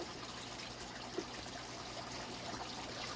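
Water is siphoned through a stiff hose into a bucket, making a faint, steady trickling and splashing with a few small drips and knocks, close and without voices.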